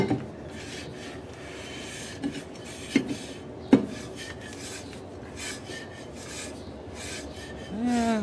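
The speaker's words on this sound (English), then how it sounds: "And if you hear it, it's barely rubbing" The brake on a 2013 Chevy Cruze rubs faintly as the wheel is turned by hand after the adjuster is clicked. It makes a soft, continuous rasping scrape with a few small louder scuffs, and no one speaks.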